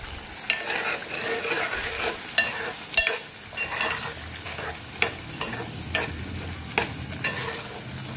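Lemon-marinated prawns fry in a spiced masala paste whose oil has separated. A steady sizzle runs throughout, punctuated every second or so by sharp scrapes and clinks of stirring in the pan, with no voices.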